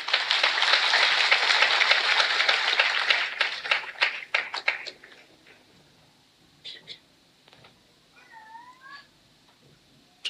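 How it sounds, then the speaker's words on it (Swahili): A crowd claps for a grieving parent at Betty Bayo's funeral service in Kiambu, a dense burst of applause lasting about five seconds before breaking into scattered claps, followed by quieter background sounds and a brief voice. "Tumpigie mzazi makofi."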